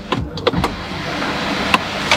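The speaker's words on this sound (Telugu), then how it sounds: "సన్ రూఫ్ని నేను ఆన్ చేశాను కదా, ఇప్పుడు ఆఫ్ చేస్తున్నాను." The electric sunroof of a Mahindra XUV400 electric SUV closes with a motorized hum, punctuated by several sharp clicks and clunks at the start and near the end, up close inside the cabin.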